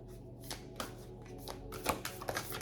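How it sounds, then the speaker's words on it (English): Oracle cards are shuffled by hand close by, a quiet run of soft riffling bursts and flicks in an irregular rhythm lasting a couple of seconds, with no talk. "Let me use my Oracle cards."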